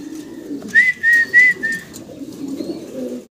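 A pair of large Modena pigeons at a farm, giving a few short whistling calls over a soft, continuous low cooing murmur, close by.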